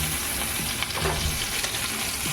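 Bhola fish frying in oil, a continuous close crackling sizzle with a few brief stirring clicks and scrapes, no voices.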